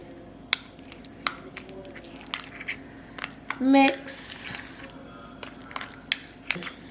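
Green seasoning paste stirred into food for rasta pasta, giving soft squishy mixing noises broken by scattered sharp clicks of a utensil against the dish, close by.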